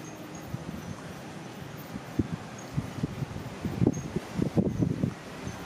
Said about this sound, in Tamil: எங்கே போனாலும் காற்று சுற்றி சுற்றி அடிக்குது